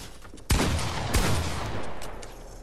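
Two loud bursts of video game gunfire, each a sharp crack followed by a sustained roar of shots that fades gradually.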